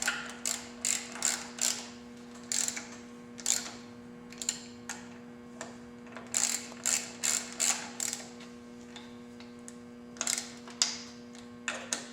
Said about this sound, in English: You want to make sure you go back and tighten up your triple tree bolts.